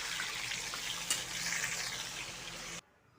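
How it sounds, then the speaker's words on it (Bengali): Eggplant slices fry in hot oil with a steady, close hiss and crackle that stops abruptly near the end; no voices. "বেগুনটাও ভেজে নিচ্ছি আমি।"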